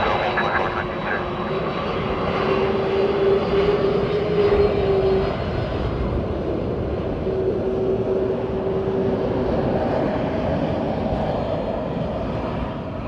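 Airliner engines roll out after landing at Dublin Airport, Delta flight 154, a steady loud roar that stays level throughout with a faint whine riding on top, on a windy morning.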